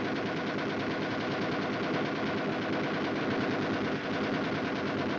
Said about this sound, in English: The M73 machine gun is a lightweight, air-cooled weapon.